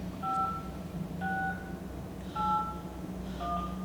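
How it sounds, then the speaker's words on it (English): A phone rings in a horror movie, giving repeated two-tone electronic chirps in four short bursts over steady background noise. "So the phone starts ringing."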